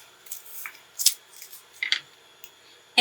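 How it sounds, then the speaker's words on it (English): Non-stick scissors snip paper in several short, quiet cuts at irregular intervals, with soft rustles between them and a louder crisp snip at the end. "take my wonderful non-stick scissors"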